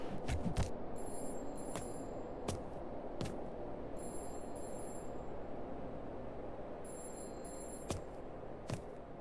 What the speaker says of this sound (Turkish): Böyle bir telefon çalıyor ona bakacağım